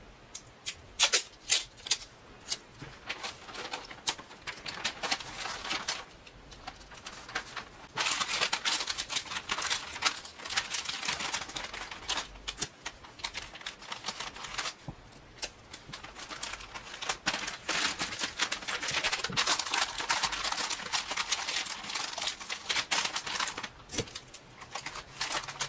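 Painter's tape tears and crinkles as a package of several comics is wrapped up like a gift, with rustling and tape-pulling sounds running close and steady throughout.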